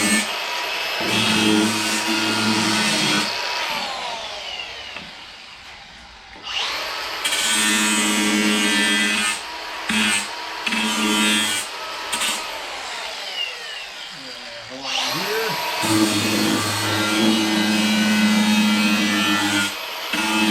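An angle grinder fitted with an old, worn flap disc sands the wooden edges of a subfloor in a classic GMC Vandura G25 van. Loud whining grinding comes in long bursts that spin down between passes, roughly three runs in all.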